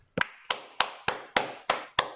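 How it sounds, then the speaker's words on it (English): Seven sharp hand claps at a slow, steady pace, close by, each ringing briefly before the next. "A round of applause to my friend for doing that, and congratulations."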